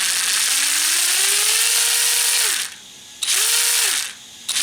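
Brushless electric motor of a model Land Rover LR3 whirs loudly up to speed with a rising pitch, cuts out, then spins up again briefly; close and alone, with no talking.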